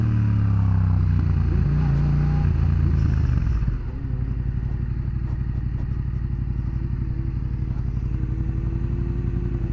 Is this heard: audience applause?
no